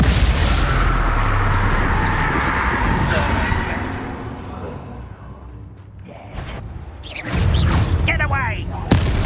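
Explosive spells Bombarda and Confringo cast in Hogwarts Legacy, a long rumbling blast that fades out, then a sharp booming hit with swirling magical effects and a voice speaking near the end.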